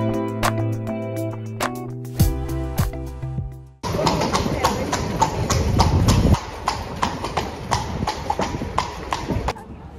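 Hooves of a horse pulling a cart clip-clop in a steady, close rhythm on a road around a busy roundabout in Seville, with chiming tones at first, then broad traffic rumble behind the hoofbeats.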